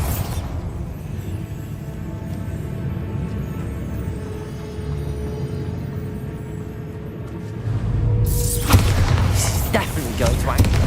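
The Bombarda explosion spell lands in the game Hogwarts Legacy: a steady, droning backdrop gives way late in the clip to a sudden heavy boom that spreads into a loud, sustained rumble.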